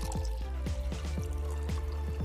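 Water poured into a container holding a glued-in heart pendant for freezing, a steady close trickle with repeated dripping splashes and no talk.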